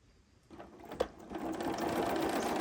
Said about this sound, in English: And now let's stitch.